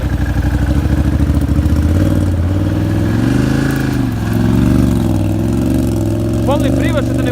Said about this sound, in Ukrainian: Саме головне, що мотор хоч працює.